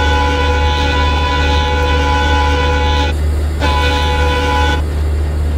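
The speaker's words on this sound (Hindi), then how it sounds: "एक लंबा सा हॉर्न बजा देते हैं हम लोग यहाँ से।" In the Railworks train simulator, a WDG4D diesel locomotive hauling a Shatabdi Express sounds a long, loud multi-tone horn at night, held for several seconds with brief breaks, over engine drone.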